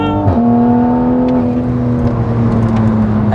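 A 550 bhp MK5 Toyota Supra with a hybrid turbo accelerates hard. The engine rises in pitch and then settles into a loud, steady drone heard from inside the car, with no talking.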